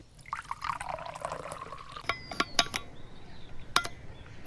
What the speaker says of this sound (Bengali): এরপর এর মধ্যে অ্যাড করতে হবে 1 কাপ পরিমাণ ভিনিগার।